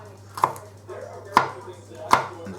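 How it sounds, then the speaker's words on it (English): A knife chops green onions on a board with three sharp, evenly spaced thuds and faint rustling between strokes, recorded up close. "chop them up just like you did with the chilies"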